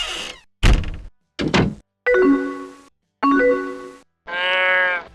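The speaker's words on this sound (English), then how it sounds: "That door opening meant your best friend, or that special someone just signed on" The AOL Instant Messenger buddy sign-on chime, a door creaking open. Several short, separate bursts ring out alone and loud: thuds and knocks first, then creaky, tonal swells that end in a bright harmonic squeak.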